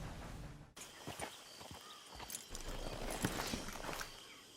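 Horse hooves clop steadily on the ground in the Western video game Red Dead Online, a moderate walking rhythm at medium distance over faint ambient noise.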